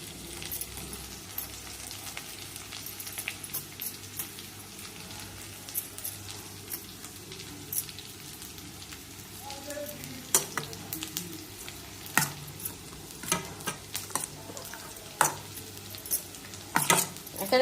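Sabudana khichdi with salt, sugar and crushed peanuts being stirred and fried in a pan, a soft steady sizzle broken by repeated scraping and clinking of a spoon against the metal, no voices.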